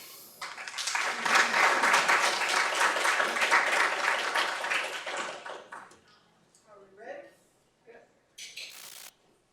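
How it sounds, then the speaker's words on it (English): A seminar audience applauds to welcome the speakers, a dense, sustained clapping for about six seconds that then thins out into a few scattered claps and faint room sounds. "Please join me in welcoming the speakers."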